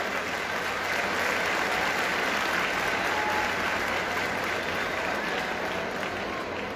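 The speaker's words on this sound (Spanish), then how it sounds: "Fuerte el aplauso" Audience applause fills the night-time opening ceremony of the 2022 Huamantla fair, a dense, steady, loud wash of clapping from a large crowd that holds for the whole stretch, with faint voices mixed underneath.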